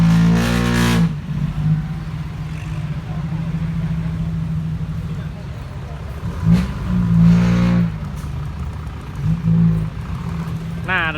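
A nearby tractor engine chugs and revs, with a steady low drone rising in bursts while people talk over it.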